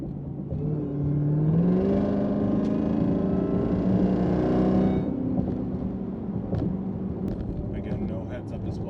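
A Jeep Trackhawk driving on a rough road, heard from inside the cabin as a steady low engine drone that rises in a brief rev, then settles back to a rumbling whir.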